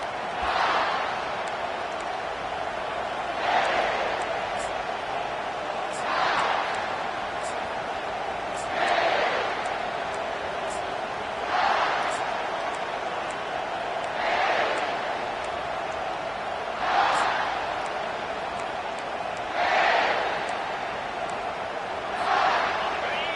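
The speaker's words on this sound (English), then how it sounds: "They challenge this crowd to bring the energy, and I'd say they're doing that." A stadium crowd in a Madden football video game keeps up a constant roar, with swelling cheers that rise and fall every few seconds at a steady rhythm, heard at a distance across the whole stretch.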